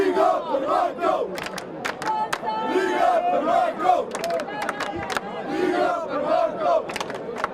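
Football fans chant loudly outside Maribor stadium, a crowd roaring in rhythmic, repeated shouts with sharp claps or bangs scattered throughout.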